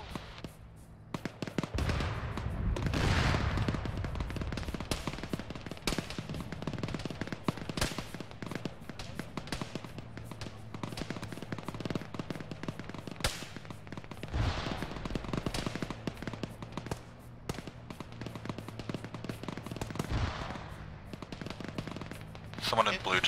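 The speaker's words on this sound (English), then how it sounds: "we got a EI shooting on us where that smoke just popped" Bursts of rifle and machine-gun fire from enemy infantry in the Arma military video game, rapid sharp shots crackling on and off at middle distance, with players talking over the firing.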